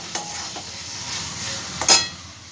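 Chhana (cottage cheese) stirred and fried with spiced potatoes in a pan: a soft sizzle under several scraping spatula strokes, with a sharper scrape near the end.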